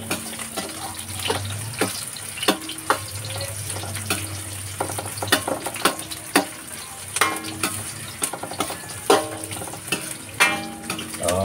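Onions sautéing in a hot pan for a seafood dish, with a steady sizzle and repeated sharp scraping and stirring strokes, close and fairly loud, no voices.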